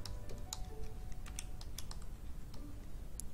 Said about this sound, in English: then typing my channel's name